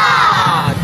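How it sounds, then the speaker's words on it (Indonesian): A group of students in a PE lesson on the crouch start for sprinting shouts together in unison, a loud sustained yell filling the short moment. "Teriak."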